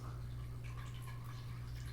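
Concentrated ruby-red cranberry apple cider poured into a container for boiled spring water, a steady liquid trickle and dribble running for about two seconds over a constant low hum, close and fairly quiet.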